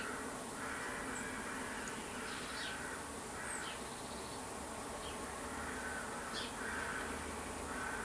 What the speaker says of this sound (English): There's a crow cawing away.